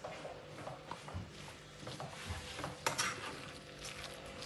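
A spoon stirs tuna pie filling with spices in a pot, giving faint, irregular scrapes and soft knocks against the metal, with one sharper clink partway through, low and close.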